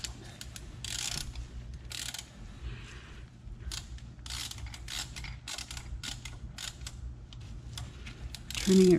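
Socket wrench turning a PCV valve into the aluminum of a 2003 Subaru Forester engine, giving a run of small close mechanical clicks and creaks at an irregular rhythm with no talking.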